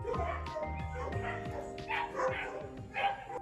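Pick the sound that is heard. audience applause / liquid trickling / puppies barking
puppies barking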